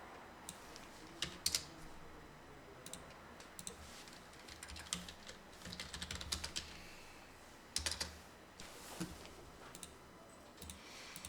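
Fingers type on a computer keyboard while a spreadsheet formula is entered in Excel, a close, irregular run of soft key clicks with scattered louder taps and short pauses.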